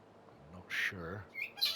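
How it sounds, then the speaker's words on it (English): A pet bird squawks and chatters in the background in a few short, harsh bursts, some calls sounding almost like speech. "That is the bird talking."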